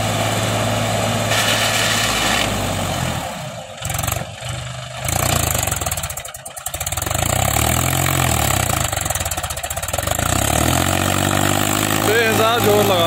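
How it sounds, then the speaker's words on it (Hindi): A Mahindra 265 DI tractor hauling a heavily loaded trolley labors hard in wet, sticky mud, its engine droning loud and close with surges and dips, while someone talks over it. "बहुत जोर लगा रहा ट्रैक्टर, बेहिसाब जोर लगा रहा।"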